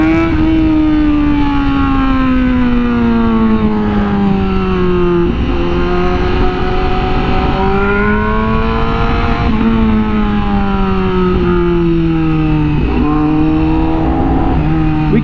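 A superbike, one of an R1M, H2, Fireblade RR-R or S1K, revs hard through its exhaust, loud and close, the engine pitch sweeping up and down in repeated rising and falling surges with no talk.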